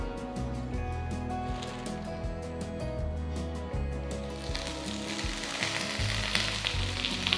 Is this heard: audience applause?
no